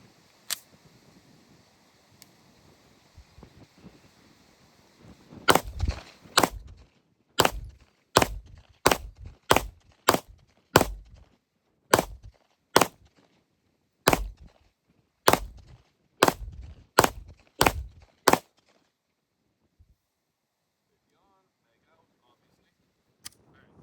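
A TTI Benelli M4 Tactical shotgun fires at an outdoor range, about fifteen loud, sharp reports in a steady cadence roughly one per second, then silence.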